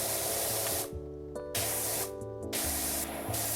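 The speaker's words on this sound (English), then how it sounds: "you could have it auto spray too" Pressure washer spraying in PowerWash Simulator, a steady loud hiss of water jet that cuts out twice briefly and resumes, with a low hum underneath and no talk.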